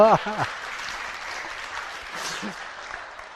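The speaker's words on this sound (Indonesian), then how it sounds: "Tepuk tangan dulu dong." A crowd applauds steadily at a comedy show, the clapping sustained and fairly even throughout, with a voice briefly heard at the start.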